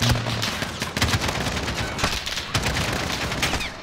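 Gunfire in the Call of Duty: Modern Warfare campaign, rapid bursts of loud, close shots with heavier booming reports, firing in dense overlapping volleys throughout.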